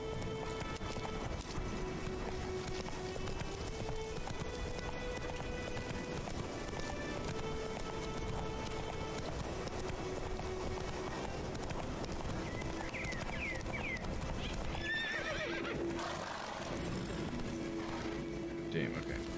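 Hooves of Roach, a horse in a Witcher video game, clip-clop steadily at a gallop, with occasional whinnies among game music and ambient sound, while someone talks over it.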